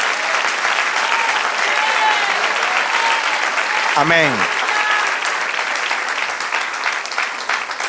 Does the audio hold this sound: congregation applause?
yes